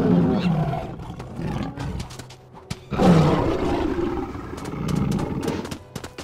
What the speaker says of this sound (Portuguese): Olha o rugido do leão